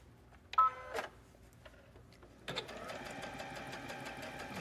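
A home sewing machine fitted with a double needle stitches a hem at a longer stitch length, starting with a few sharp clicks, then settling after a pause into a steady, close mechanical whir with no talking.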